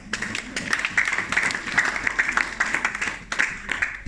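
A church congregation applauds in a short burst of rhythmic clapping at moderate distance, with a voice faintly underneath.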